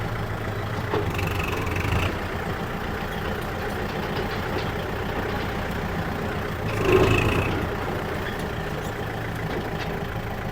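A Kubota MU4902 tractor engine idles steadily at close range, a continuous mid-pitched rumble that swells briefly around a gear change before settling back to an even drone.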